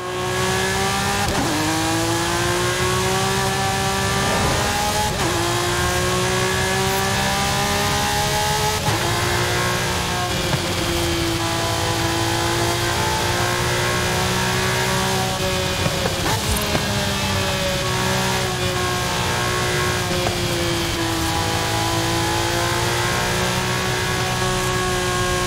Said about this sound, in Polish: bardziej uwidoczniony jest dźwięk tego wydechu tylnego